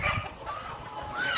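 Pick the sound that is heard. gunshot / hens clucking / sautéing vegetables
hens clucking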